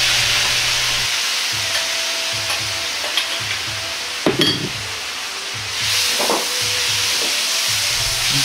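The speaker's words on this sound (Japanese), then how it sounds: "肉とタケノコにタレを含ませるように軽く炒めれば完成です" Pork and bamboo shoots are stir-fried with sauce in a hot pan for ginger pork. A steady loud sizzle and hiss fill the clip, broken by brief scraping stirs, over a faint rhythmic low hum, with no talk.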